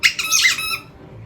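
A comedic squeaking nose sound effect, a bright, high-pitched squeak lasting under a second with a couple of wavering pitch bends, then fading into quiet.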